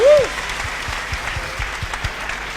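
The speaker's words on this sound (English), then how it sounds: "Round of applause, please." An audience claps for the women's winners at the 2014 CWIF climbing competition. The applause is a sustained patter of many hands that swells briefly at the start, then settles into an even, moderately loud clatter.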